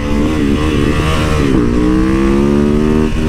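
A bobber motorcycle engine revs hard up close, a loud, steady throaty roar with rising pitch through each throttle pull.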